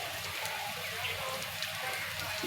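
Onion, garlic, ginger and chopped green chillies fry in oil in a pan, a steady close sizzling crackle like light rain that holds level throughout.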